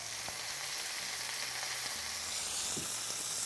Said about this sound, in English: I have this panini press that I'm going to press this with